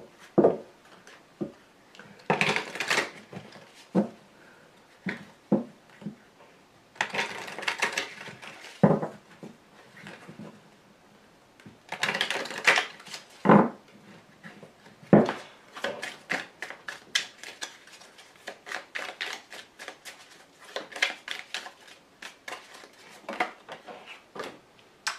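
Tarot cards being shuffled and laid down on a table in bursts of soft riffling, flicking and tapping, with quiet pauses between handlings.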